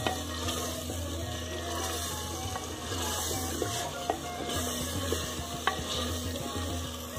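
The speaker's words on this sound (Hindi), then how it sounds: "ये प्याज इसमें अच्छी जब तक भुनाई करेंगे जब तक ये इसके बिल्कुल प्याज टमाटर जो है ना बिल्कुल मिक्स हो जाए" Onions and tomatoes fry for a chicken and potato curry masala, a steady sizzle with stirring scrapes and occasional louder clinks, continuous and close with no talking.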